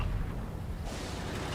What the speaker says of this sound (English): Eats a shot from the India Panzer.